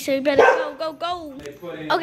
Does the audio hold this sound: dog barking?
yes